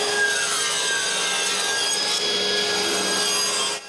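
Wood pieces for a nine-drawer dresser being sawn in a steady, continuous, close and loud grinding rasp that runs unbroken with no voices.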